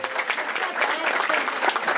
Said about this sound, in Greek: Ένα πάρα πολύ μεγάλο χειροκρότημα